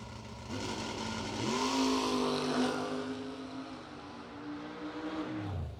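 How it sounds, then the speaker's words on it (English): A Pro Systems Carburetors Corvette Roadster drag racing at the track makes a loud, sustained engine roar that rises in pitch as it accelerates, holds steady, then drops off near the end, with no talk over it. "Ledford dialed 527, the Pro Systems Carburetors Corvette Roadster."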